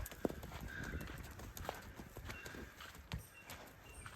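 A horse's hooves clip-clop steadily at a walk during exercise, sharp irregular knocks spaced through the whole stretch over faint outdoor background noise, fairly close but soft.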